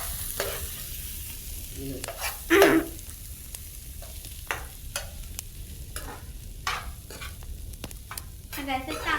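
Steamed corn being stirred in a pan makes intermittent scraping and clattering strokes over a soft background sizzle, with one louder clank partway through and no speech.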